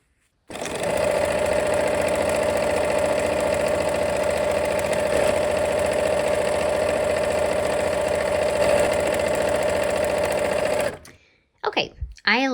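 A sewing machine stitches nine-patch quilt blocks together into rows, running loud and steady with a constant motor whir for about ten seconds before stopping abruptly; a voice speaks briefly at the end.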